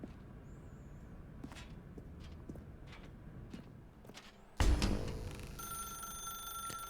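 Telephone ringing in The Stanley Parable video game, a bright repeating electronic ring that starts abruptly partway through, loud and close over a quiet ambient room tone.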